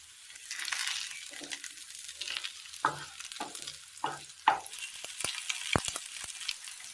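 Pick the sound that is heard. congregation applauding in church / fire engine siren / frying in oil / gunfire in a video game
frying in oil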